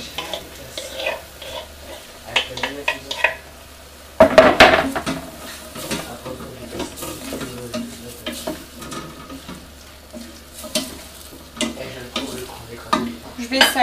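Chicken frying in a pan with garlic, onion and ginger, sizzling steadily while a utensil stirs and scrapes against the pot in repeated bursts, with a louder clatter partway through; no talking.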